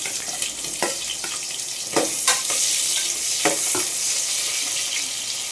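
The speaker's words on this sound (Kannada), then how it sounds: "ಈರುಳ್ಳಿ ಸ್ವಲ್ಪ ಚೆನ್ನಾಗಿ ಫ್ರೈ ಆಗಬೇಕು." Onions frying in a pan for cooker tomato rice: a steady hiss of sizzling oil, loud and close, broken by repeated scraping stirs of a spoon against the pan.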